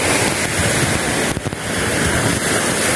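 Sea waves washing onto the shore at a beach in Macao, a loud continuous roar of surf mixed with heavy wind buffeting the microphone.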